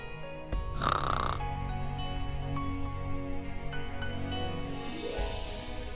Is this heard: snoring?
yes